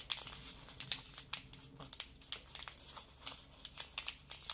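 Stiff paper being creased and folded by hand into a chopstick rest, a close run of crinkling, crackling rustles with sharp snaps, heard alone without talk.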